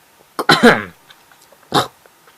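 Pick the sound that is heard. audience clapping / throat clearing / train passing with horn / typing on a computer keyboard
throat clearing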